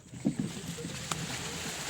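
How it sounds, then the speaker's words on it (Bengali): A small boat glides through water hyacinth on a river at Chupir Char, Purbasthali, making faint soft rustles and light water swishes under a quiet, steady background for two seconds. "কি সুন্দর আওয়াজ দেখতে পাচ্ছ, কচুরু প্যানার আওয়াজ।"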